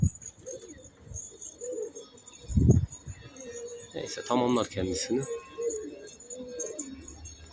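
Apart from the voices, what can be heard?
pet pigeons flying and cooing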